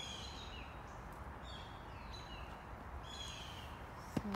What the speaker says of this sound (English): Just stop here so we can listen to the tree, to the birds.